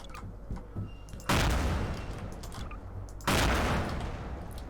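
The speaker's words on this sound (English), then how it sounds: "Then we've got one of the rocket launchers." Two heavy blasts from a rocket launcher in Garry's Mod, each a sudden loud explosive roar that lingers as rumbling noise, the second following about two seconds after the first.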